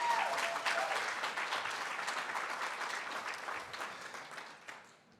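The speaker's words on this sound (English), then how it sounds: "Let's give her another round of applause." Audience applause at a small business summit, a dense sustained burst of clapping that is loudest at the start and gradually thins and fades out over about five seconds, with no voices over it.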